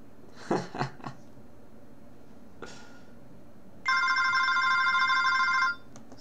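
A junk mobile phone rings once near the end, a steady electronic ringtone of about two seconds, preceded by a few soft handling clicks and thumps from the manually pulse-dialed hook switch.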